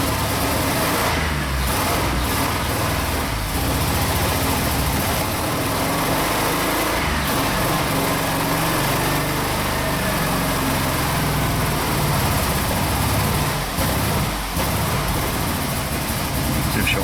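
A Jeep Liberty engine idles roughly and unevenly, misfiring with an irregular, stumbling rhythm and occasional revs, close by and steady throughout.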